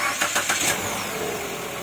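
A Mitsubishi Xpander Cross engine cranks briefly and catches, settling into a steady close idle with no voices over it.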